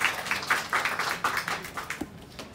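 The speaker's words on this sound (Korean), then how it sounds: "박수 부탁드리겠습니다" An audience at a Jeju Technopark R&D briefing session claps in a modest round of applause, with separate hand claps in an uneven rhythm that thins out toward the end.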